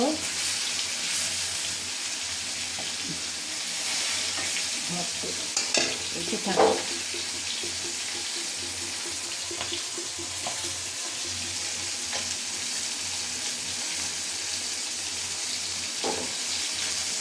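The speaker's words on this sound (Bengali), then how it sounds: "এই যে কই মাছগুলো তেলের মধ্যে এখন আমি ছেড়ে দিলাম। আর কই মাছগুলো ফ্রাই করে নিব।" Koi fish frying in hot oil, a dense steady hiss of bubbling oil throughout, with a few stirring or utensil knocks near the middle and later, close by.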